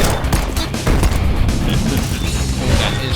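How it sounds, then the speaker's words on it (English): Dense bursts of rapid video game gunfire and booming impacts crackle continuously at full volume, with no voices, like a frantic firefight, from the Metroidvania game The Legend of Tianding. "Got hit there with some gunfire."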